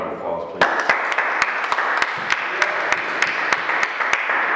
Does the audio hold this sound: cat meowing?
no